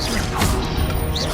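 A Confringo fire spell blasting in the video game Hogwarts Legacy, a loud crashing impact over dense, steady game noise, without talk.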